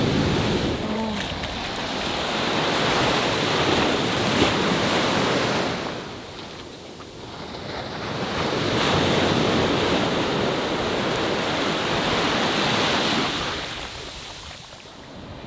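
Ocean waves wash onto a beach in Taiwan in broad, rolling surges, swelling and receding twice, with wind buffeting the microphone throughout.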